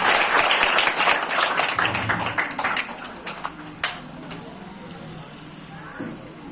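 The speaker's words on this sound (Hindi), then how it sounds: "एक बार जोरदार ताली बजाइए इनके लिए" An audience at an award ceremony for top matric and inter students claps loudly for the recipients, then the applause thins out into scattered claps and fades.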